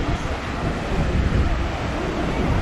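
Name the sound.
ocean waves and wind on Isla Mujeres coast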